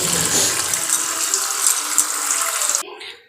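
Tap water gushes steadily while spinach leaves are rinsed under it in a kitchen sink, a moderate continuous splashing that cuts off abruptly near the end.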